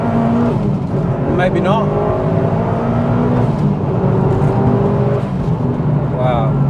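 A Mitsubishi Evo VI Rallysport engine drones steadily while driving on a wet, greasy road, with loud cabin engine hum and rising tones, and someone talks briefly over it.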